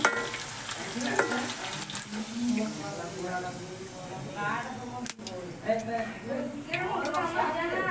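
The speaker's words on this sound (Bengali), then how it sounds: "দেখতে পাচ্ছ ভালো করে লাল লাল করে ভেজে নিয়েছি" Potato chips frying in hot oil, with a soft steady sizzle and the occasional stir, heard faintly beneath a person talking.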